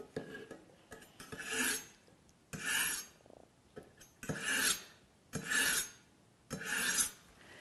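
A kitchen knife, Asian style, is drawn through the fine slot of a handheld sharpener, giving about six crisp rasping strokes in a steady rhythm. Each stroke is close and distinct, with short quiet gaps between them.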